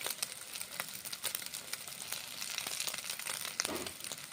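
Flattened rice mixed with egg fries in hot oil in a kadai, giving a steady, fairly quiet crackling sizzle with scattered pops throughout and no talking.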